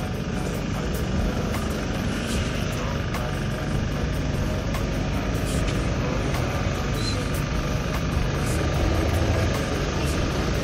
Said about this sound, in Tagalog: Tingnan niyo kung gaano kalakas sumatak.